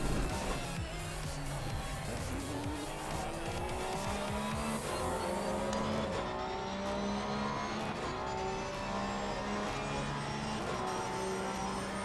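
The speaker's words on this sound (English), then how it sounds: "Getting ready to listen to that freaking jet turbine engine whine." Race car in a racing game at the Spa circuit, with a rising and falling turbine-like whine that sweeps through several gear changes along with a roaring engine and tyre noise, loud and close throughout.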